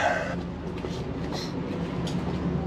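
A train pulls into a station with a continuous low rumble of rolling carriages and faint rattling, fairly loud and steady with a few brief metallic squeaks on top.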